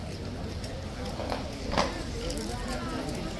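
Steady clip-clop of horse hooves at a walking pace at Horse Guards, fairly close, with a louder thump near the middle over a busy outdoor background with tourists.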